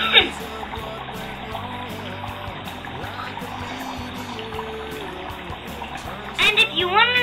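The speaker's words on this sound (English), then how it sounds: "When the water melts it, the carbon dioxide forms bubbles" Dry ice bubbling in water, gurgling steadily as carbon dioxide bubbles pop, with soft trickling and popping throughout and a louder burst of bubbling near the end.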